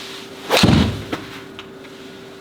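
A golf iron strikes a ball on the range, a single sharp crack followed by a brief fading whoosh, then a few faint ticks in quiet surroundings.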